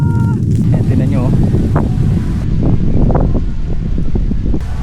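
Steady, loud wind buffeting the microphone outdoors at Splendor Hills, with a low roaring rumble throughout and some indistinct voices mixed in.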